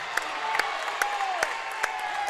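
Crowd at a Red Bud high school basketball game cheering in a gym, a steady roar with scattered claps and shoe squeaks, distant and continuous.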